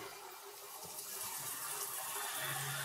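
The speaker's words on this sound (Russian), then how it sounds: "потихоньку добавляю кружку кипяченой горячей воды" Hot boiled water pours steadily into a pot of borscht over a low flame, a soft, continuous splashing rush that grows slightly fuller as it goes.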